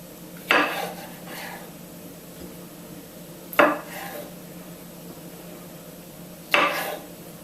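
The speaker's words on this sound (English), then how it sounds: "the olives I tend to cut them in half" Knife halving olives on a cutting board, three sharp separate knocks spaced a few seconds apart against quiet background, with no talking, while preparing raw ratatouille.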